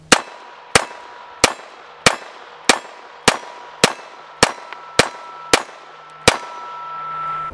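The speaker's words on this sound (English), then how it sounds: "we're going to be shooting mainly CCI mini mags because they say that high velocity .22 is the best" Sig Sauer 1911-22 pistol firing .22 Long Rifle rounds, ten sharp, loud shots in a steady rhythm about 0.6 seconds apart, each with a short ringing decay, then a brief quiet tail.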